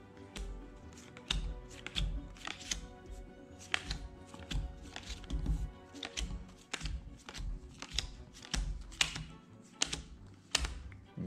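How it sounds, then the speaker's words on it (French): Sixteen tarot cards are dealt one at a time onto a table. A steady run of soft, close slaps and taps repeats throughout, with no speech. "je vais distribuer 16 cartes"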